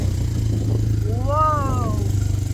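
ATV engine running at an adventure park, a steady low motor drone throughout with a brief rising whine in the middle, under a voice.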